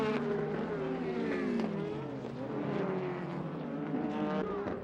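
GT race cars from the 1999 JGTC season, including a Castrol Toyota Supra and a Nakajima Racing Honda NSX, roar steadily with shifting engine pitches as several cars pass close by at high speed.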